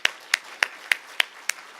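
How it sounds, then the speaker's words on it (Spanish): A church congregation claps hands in a steady, even rhythm, sharp distinct claps roughly every third of a second, fairly close and with no other sound between them. "Aplauden la mano para el Señor, hermano."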